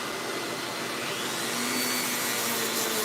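A vacuum cleaner runs steadily and loudly close by while it sucks up sanding dust during a hose and cord repair, a continuous broadband roar with a faint whine riding on top.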